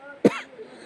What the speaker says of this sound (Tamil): எனக்கு இருமல் பேய் ஸ்டார்ட் ஆயிருச்சு